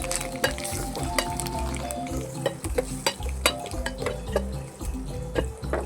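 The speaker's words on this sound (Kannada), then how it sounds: "ಸ್ವಲ್ಪ ಹಿಂಗು ಪುಡಿನ ಹಾಕ್ಕೊಂಡು ಫ್ರೈ ಮಾಡ್ಕೊಳ್ಳೋಣ" Mustard seeds and asafoetida fry in an oil tempering for holige saaru, giving a close, continuous sizzle with crackling pops and repeated scraping stirs of a spoon against the pan.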